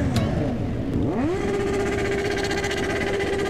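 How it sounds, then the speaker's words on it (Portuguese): A new motorcycle engine from a GTA video game vehicle pack roars loud and close, its pitch climbing as it revs, then settling into a steady, sustained high drone. "Os roncos das motos novos também, ó. Que vão passar aí."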